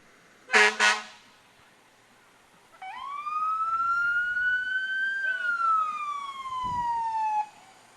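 A 2011 Crimson fire truck, Engine 2 of the Dubois Volunteer Fire Department, sounds two short loud horn blasts in a street parade, then its siren winds up, holds and slowly falls for several seconds, close and clear.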